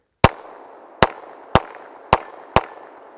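A Smith & Wesson EZ pistol firing 30 Super Carry, five loud sharp shots at a steady, quick pace, each followed by a brief echoing tail outdoors.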